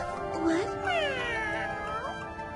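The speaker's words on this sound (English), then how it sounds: "You're Suzaku's cat, huh?" A cat meows in a few rising and falling calls, close and fairly clear, over a steady background hum with a voice faintly present.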